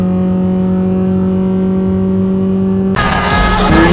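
A Honda Type R engine drones at a steady high pitch as revs climb, then VTEC engages and the note turns harsher and louder, a dense roaring rasp from inside the fast-moving car.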